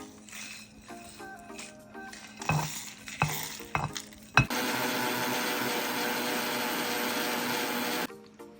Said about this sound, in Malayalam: നമുക്കതെല്ലാം കൂടി ഒന്ന് മിക്സിയിലിട്ടിട്ട് പൊടിച്ചെടുക്കാം നന്നായിട്ട്